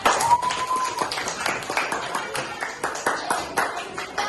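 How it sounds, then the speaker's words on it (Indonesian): A small group of pupils in a classroom clap for a classmate's correct answer, light and uneven, with separate claps and taps. A short tone sounds near the start. "Iya, pintar. Tepuk tangan."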